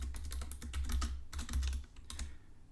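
Close-up typing on a computer keyboard while entering a password in Python code, a quick irregular run of key clicks with short pauses and a heavy low thump under the keystrokes.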